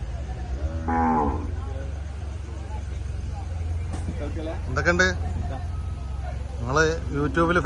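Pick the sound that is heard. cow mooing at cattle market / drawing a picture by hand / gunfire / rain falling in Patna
cow mooing at cattle market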